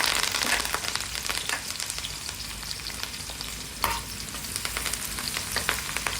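Onions and curry leaves fry in hot oil in a pan, giving a loud, steady, close sizzle with crackling bursts and a brief stir around the middle, with no voices.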